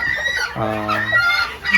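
Mini garnisé bantam chickens cluck in short bursts, with one drawn-out crowing call in the middle and soft barnyard background.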